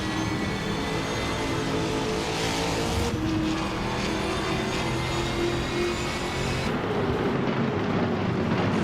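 A 2021 Chevrolet Camaro Trans Am Class race car at Eastern Creek's Brabham track in a racing video game, its engine droning loud and steady throughout with shifting pitch as it accelerates, no voices.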